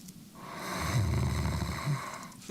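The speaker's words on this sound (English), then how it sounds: "Fucking snoring." A character snores in the Honkai Star Rail video game, a deep, slow, rumbling snore drawn out over a couple of seconds under a steady ambient hum.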